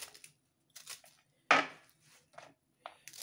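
Knife chopping onions and chillies for a home kitchen dish, heard as a few separate sharp cutting strokes with short pauses between them, one of them clearly louder than the rest, close by with no talking.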